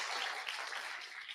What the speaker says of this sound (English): Y'all can do better, a little louder, a little clap